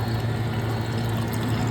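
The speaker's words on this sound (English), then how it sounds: "now the pump is pumping milk into the system" A Taylor soft serve machine's pump pushes milk into the system during priming, a steady, loud, continuous liquid pumping hum with no break.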